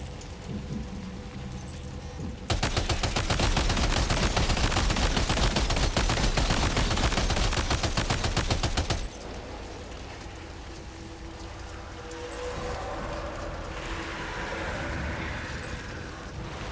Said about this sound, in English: Shoot them!